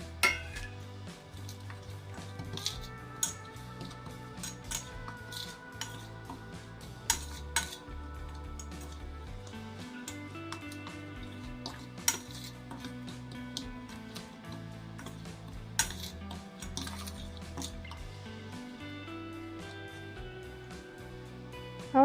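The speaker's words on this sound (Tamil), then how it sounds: "ஒரு பெரிய பாத்திரத்தில் போட்டு நல்லா மிக்ஸ் பண்ணிக்கலாம்" Roasted horse gram idli podi is mixed in a large vessel with a spoon, giving repeated scraping and metallic clinks at an uneven pace over steady background tones.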